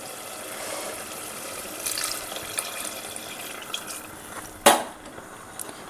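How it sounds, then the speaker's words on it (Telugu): Water poured from a glass into a cooking pot for chicken pulao, a steady wash of splashing liquid with a sharper slosh near the end, fairly close and moderately loud, with no talking. "ఈ గ్లాస్తోనే 3 గ్లాసెస్ వాటర్ వేసుకోవాలి"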